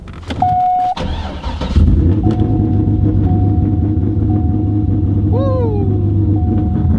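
A Corvette Z06 V8 cranks with a short whine and catches around the two-second mark, then settles into a loud, steady, deep idle rumble close by, with a brief rising tone partway through.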